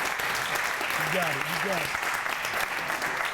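Steady applause from a crowd at an official portrait unveiling ceremony, with a voice speaking briefly over the clapping.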